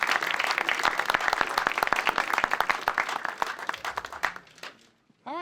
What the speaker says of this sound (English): if you can give everyone a round of applause again